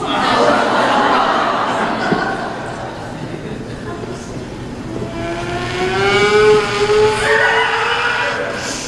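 A person vocally imitates a racing car speeding along and then crashing, with revving, rising engine-like tones building before a rougher burst, heard close and fairly loud amid light room murmur and chuckling.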